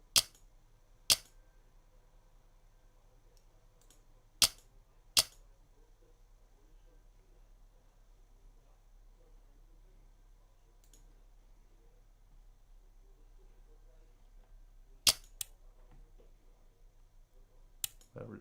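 Single-shot rifle gunshots in the hunting game Deer Hunter 2005: sharp, isolated cracks spaced irregularly across a quiet background, several in quick pairs, each brief and crisp.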